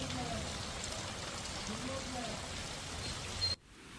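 Steady rain falls over an outdoor area in Gujarat, a dense, even hiss of drops that continues for a few seconds and then cuts off abruptly.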